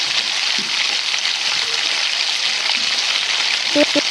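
Masala-coated eggplant frying in hot oil for ennai kathirikai kuzhambu, an even, moderately loud sizzle throughout with a few faint clinks near the end.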